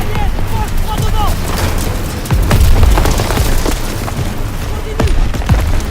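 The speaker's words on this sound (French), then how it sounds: "Essuie des tirs." In the Call of Duty WWII video game, rapid gunfire and heavy booming explosions pile up in a dense, loud battle mix while a voice briefly speaks over the combat.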